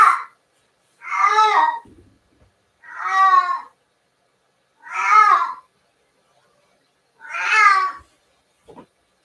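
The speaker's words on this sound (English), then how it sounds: "He's deaf, so when he meows, he doesn't know how loud he is" A deaf cat lets out four loud, drawn-out meows with short pauses between them, close to the listener and otherwise quiet.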